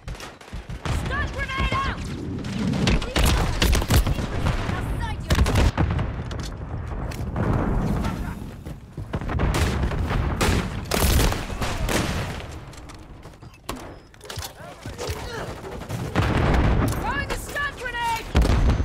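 Rapid bursts of gunfire and booming explosions in Call of Duty: Modern Warfare III multiplayer, near and loud, continuous throughout with voices talking over the battle.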